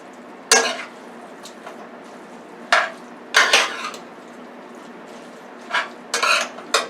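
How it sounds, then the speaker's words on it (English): Ingredients being stirred in a pan with a little olive oil left in the bottom, sharp spoon-on-pan scrapes and clinks in irregular bursts over a soft background sizzle. "Now I'm just going to mix this in."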